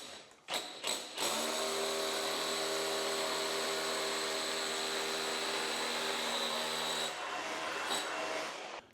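A power drill bores through a floor for electrical cable runs, a few short starts followed by a long continuous loud whine that holds for several seconds before winding down near the end.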